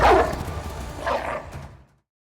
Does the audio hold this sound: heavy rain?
no